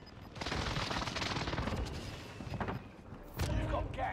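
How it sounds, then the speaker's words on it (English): Enemy precision airstrike explosions in a battle royale video game, a dense barrage of loud rumbling blasts and crackling impacts across the whole stretch, with a sharper burst near the end. "Enemy precision airstrike."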